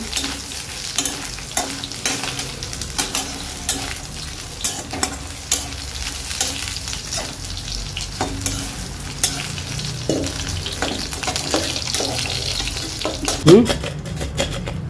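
Paneer frying in a pan while being stirred, a continuous close sizzle broken by repeated scraping and clattering strokes of the spoon, growing busier toward the end.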